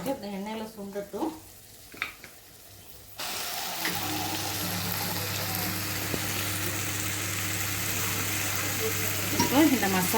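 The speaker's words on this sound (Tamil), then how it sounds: "கொஞ்சம் இந்த எண்ணெயில் சுண்டட்டும்." Chicken masala sizzles and fries in hot oil in a pan, a steady loud crackling hiss that starts abruptly after a few seconds of quieter kitchen sounds with a voice.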